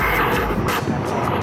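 A drone with a low battery hums and whirs steadily as it auto-lands, a loud, close, continuous motor drone with slight wavering.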